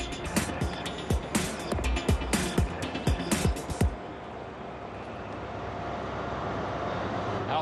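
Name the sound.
train station ambience at King's Cross, London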